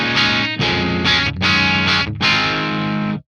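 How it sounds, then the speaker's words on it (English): Distorted electric guitar through the McRocklin PolyChromeDSP edge channel with the reverb off, four loud strummed chord blocks separated by brief gaps, ending in an abrupt dry cutoff. "Turn off the reverb to see what the tone kind of sounds like on its own."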